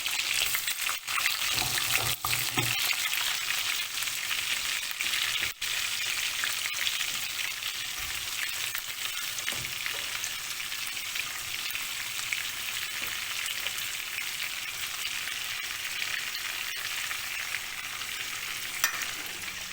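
Chopped onion sizzles steadily in hot oil and butter in a pan, a close, dense frying hiss lasting throughout, with occasional stirring scrapes and clicks and no voices.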